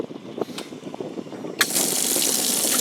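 A few quiet clicks and knocks, then a boat livewell pump kicks on with a sudden loud rush of water that keeps gushing steadily, close by.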